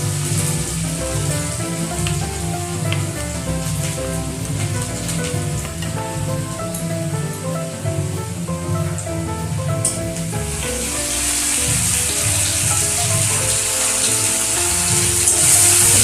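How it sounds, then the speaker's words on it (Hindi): Onions fry in hot oil in a pan, browning for a small fish curry. A dense, continuous sizzle crackles steadily throughout, loud and close, with no talking. "अब प्याज को हम अच्छे से ब्राउन आने तक भून लेंगे।"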